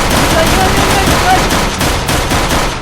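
Rapid gunfire in Minecraft, a dense continuous burst of loud overlapping shots filling the whole stretch, with faint voices mixed in.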